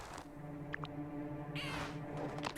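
A bird caws once in the I Am Future video game trailer, a short harsh call rising briefly over a steady hum of game music and ambience.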